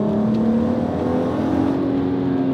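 Volkswagen Golf MK5 R32 with its VR6 engine revving loudly in sport mode, a steady strong engine drone with a rising tone heard close up, alone without talk.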